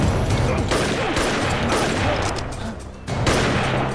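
A loud, dense volley of gunfire in an action war film rolls on continuously, briefly thinning near the end before surging again.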